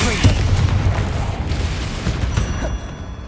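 A Confringo fire spell bursts in Hogwarts Legacy, a loud booming blast right at the start followed by rumbling debris and crackling combat noise over the next few seconds.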